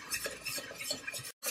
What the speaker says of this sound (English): as I'm whisking, I can see the bottom of the pan